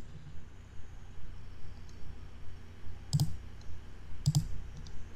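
Mouse clicks while working in PowerPoint, two sharp distinct clicks a second apart, close and clear over a faint background hum with no talking.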